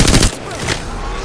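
Gunfire in a competitive shooter video game, a quick loud burst of shots up close that fades into a dull ringing tail.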